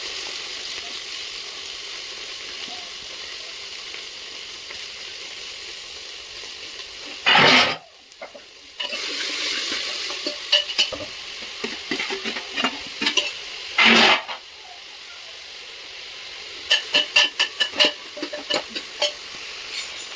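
Chopped vegetables and onions fry in a hot spiced oil tempering for vegetable rice, a steady sizzle broken by a few loud spoon scrapes and clatters against the pot.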